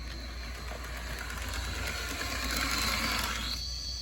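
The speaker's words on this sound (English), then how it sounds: "Solid running locomotive right there." A vintage AHM C420 model train locomotive runs steadily with a continuous close mechanical whir and rattle, with no talking.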